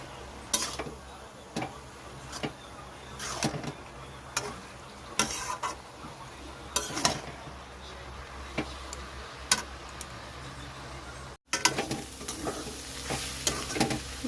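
Tukni greens with green chilli sizzle steadily in a pan, broken by repeated sharp clinks and scrapes of a spatula stirring, close and clear with no talking.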